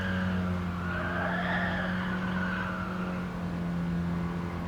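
A classic Mini race car corners hard in the GT Sport racing game, its engine droning steadily while tires squeal and skid through a long fourth-gear bend.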